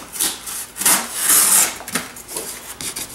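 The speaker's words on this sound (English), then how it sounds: "You can see it's just cutting through this cardboard like nothing." A Spyderco folding knife slices through cardboard in short rasping strokes, a close, scratchy tearing sound with a few quick bursts and no talking.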